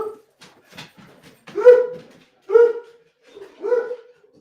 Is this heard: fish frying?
no